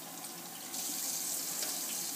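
Water runs steadily from a tap as mohair doll hair on a Blythe doll is soaked, a close, continuous splashing flow that grows a little louder partway through.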